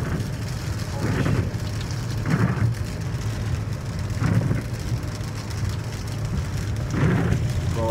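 Rain pattering on a car while storm chasing, a steady wash of drops with several heavier swells of gusting rain or rumble every couple of seconds, heard from inside the vehicle.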